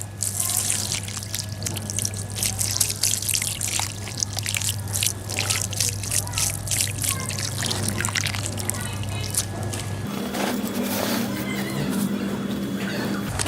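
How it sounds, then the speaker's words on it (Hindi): Water is poured lightly onto soil in a plant pot holding Giloy cuttings, giving a steady soft trickle and splash under a constant low hum, with the tone shifting partway through. "फिर से हल्का सा मैं पानी दूंगा।"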